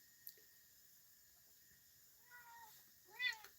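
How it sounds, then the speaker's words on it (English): Domestic cat meowing indoors in a quiet room, two short rising-falling meows about a second apart, the second louder, against faint background hum. "My cat's saying good morning."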